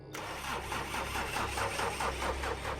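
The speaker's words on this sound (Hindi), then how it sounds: "लेकिन इंजन अजीब सी आवाज़ें निकालने लगा।" A jeep engine starting up and running roughly with an irregular, sputtering rhythm, close and steady at moderate loudness with no voices.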